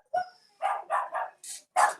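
A dog gives five or six loud, close barks in an uneven burst with short gaps between them, and one high yip among them.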